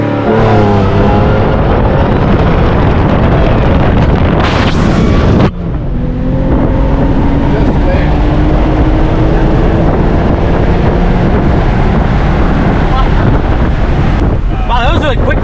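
A car accelerates hard on an open road without launch control, its engine note rising steadily through the gears amid heavy wind buffeting on the microphone, with a brief cut mid-run.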